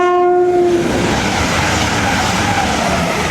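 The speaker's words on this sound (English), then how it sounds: "Here is the Sunderland train." An LNER service from London King's Cross to Sunderland passes at Retford on the East Coast Main Line, opening with a loud, steady horn blast before the roar and rush of the train going by up close.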